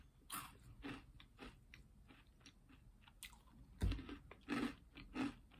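Crunchy Dunkin' caramel macchiato flavored cereal being chewed up close, a quiet run of irregular crunching bites with louder crisp bursts near the end.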